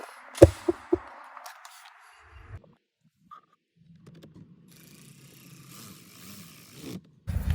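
A plastic engine cover being clipped back onto a Mercedes-Benz E-Class: a few sharp close snaps and clicks early on, then quiet handling rustles, a faint hum, and a final louder clunk at the end.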